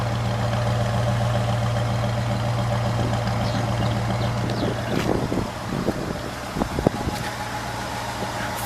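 A 1982 Ford Galaxie Landau idles with a steady low exhaust drone, close and continuous, with a few sharp clicks and knocks near the end.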